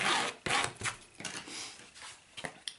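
A bone folder rubs firmly along a folded canvas hinge for a mini album, giving short dry rasping strokes in a few bursts, close and fairly quiet.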